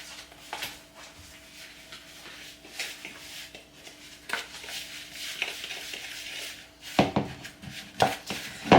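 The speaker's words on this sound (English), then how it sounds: "I'll just use a fork to mix these." Fork whisking and stirring in a bowl, a scraping, tapping rhythm that runs throughout and turns louder, sharper clinks toward the end, with no one speaking.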